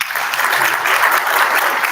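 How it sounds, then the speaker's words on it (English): An audience at a national adolescent health forum claps for a presenter, steady broad applause filling the hall with no pause. "So let's clap for her again."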